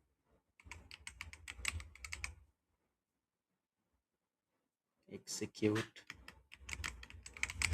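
Clicky computer keyboard typing in two bursts separated by a silent pause, close and fairly quiet, with someone speaking briefly during the second burst.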